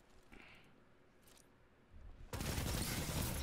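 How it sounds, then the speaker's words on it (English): Rapid bursts of gunfire from a Destiny 2 match break in loud and dense partway through, after a quieter stretch with faint game sounds. "what's with the shooting, bro?"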